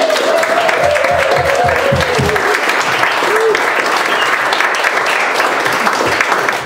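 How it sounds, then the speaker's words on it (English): Audience applause at a food symposium, loud, dense and sustained clapping from a large crowd filling the whole stretch, with a brief voice heard over it near the start. "I want to have a huge applause for Sushi"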